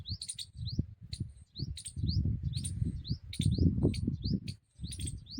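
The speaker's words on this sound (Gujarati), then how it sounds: "બે ખિચકોલી બેકારો કરે જો" Two squirrels up in a tamarind tree call back and forth in the early afternoon: a series of sharp, high, repeated chirps in quick bursts, with low rustling and rumble underneath.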